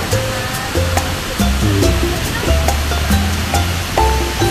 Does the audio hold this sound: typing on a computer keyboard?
no